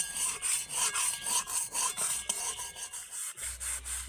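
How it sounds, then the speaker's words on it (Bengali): A metal spatula scrapes the inside of a wok scoured with powdered eggshell, giving repeated rhythmic rasping strokes, close and fairly loud, with a short pause near the end. "আমি খুন্তি দিয়ে ওগড়ানোর ফলে এই দেখুন কি সুন্দর উঠে যাচ্ছে"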